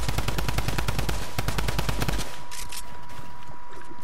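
Rapid automatic gunfire bursts in the Fortnite video game, dense and loud for about two seconds, then cutting off into fainter scattered shots and background noise.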